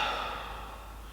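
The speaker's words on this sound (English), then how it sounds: "And now hold this, and we'll take about 5 deep breaths in this position." One deep exhaled breath, close and soft, held during a stretching pose in a mobility routine, fading steadily over about a second.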